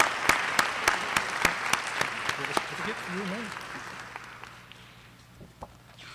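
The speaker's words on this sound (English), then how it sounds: "we can give them a round of applause as they come up" Scattered clapping from a small group at an honors ceremony, with sharp individual claps that thin out and fade, and a voice murmuring briefly in the middle.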